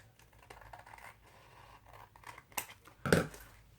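Scissors trim the top edge of a paper window envelope in quiet, close snips and scratchy paper rustles, ending in a louder cut near the finish.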